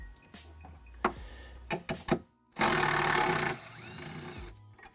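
An 8mm socket works a ground bolt loose on a Ford Bronco, giving a few sharp ratcheting clicks and clanks followed by a loud, steady burst of mechanical whirring lasting about a second, all close by.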